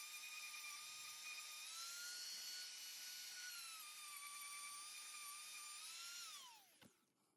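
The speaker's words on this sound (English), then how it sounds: "I cleaned around the holes that the bushes will solder into, and around the bottom of the tube with a Scotch-Brite wheel in the Dremel" A Dremel rotary tool spinning a Scotch-Brite wheel against a brass tube, a steady high-pitched whine with slight pitch wavers that winds down and stops near the end, heard alone.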